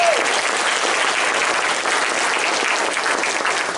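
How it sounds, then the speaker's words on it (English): A crowd at a 2018 meet-the-candidates forum gives the candidates a loud round of applause, thick and steady clapping that holds at full strength for about four seconds. "let's give all our candidates a round of applause"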